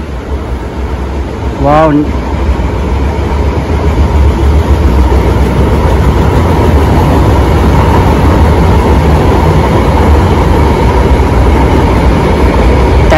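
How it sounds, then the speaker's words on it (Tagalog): An LRT-1 fourth-generation train set pulls into an elevated station on the Cavite extension, a steady broadband rumble and hum running throughout with a short squeal near the start, and a voice briefly exclaiming early on. "may paparating na naman po na 4th gen train set bound for Dr. Santos."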